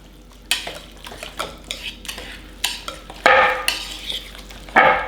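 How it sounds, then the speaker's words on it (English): A utensil stirs and scrapes through corn pudding ingredients with parsley paste in a bowl, giving irregular clinks and scrapes over about five seconds, close and fairly loud, with a few sharper knocks near the end. "So I'm just going to mix this up."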